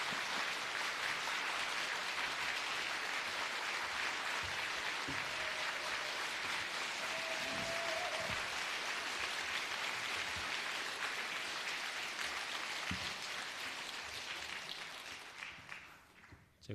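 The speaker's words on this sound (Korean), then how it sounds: "그냥 목사님 나오실래 우리 큰 박수로 모시겠습니다." A church congregation applauds to welcome a guest pastor to the pulpit at a Sunday evening service, steady sustained clapping from the whole room that fades out near the end.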